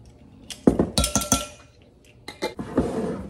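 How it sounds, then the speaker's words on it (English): Apples and cinnamon are stirred together in a bowl, producing a handful of close, bright clinks and knocks as the utensil strikes the sides, with no voices. "You're just gonna stir it all together and make sure all the apples get good and coated"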